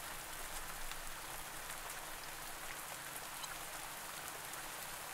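Steady rain falls in the farming video game Pumpkin Days, a soft, even hiss of drops that continues unbroken, quiet and alone.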